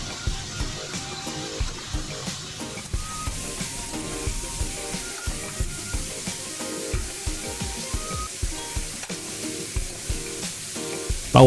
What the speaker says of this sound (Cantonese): 亦都將一啲冇煎到嗰啲位置咧，就擺落去再煎一煎佢。